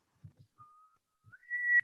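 A woman whistles quietly, with a few soft low taps, then a thin steady whistled note and a brief pause before a louder note rises and holds to a bright, sharp finish.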